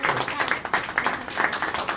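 Applause at a Baldwin Park city council special meeting: a steady patter of clapping from a modest crowd fills the room for a couple of seconds, with voices murmuring underneath.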